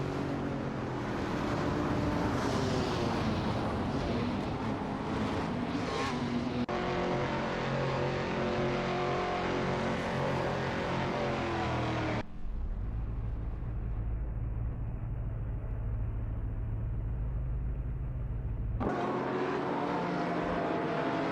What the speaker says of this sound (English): Let's enjoy some intense AI race car action together.